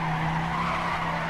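Car drifting and skidding in the racing game TrackMania, Drift Canyon track, driving a custom Cuda, with a steady sustained tire squeal and engine drone that stays loud and unbroken throughout.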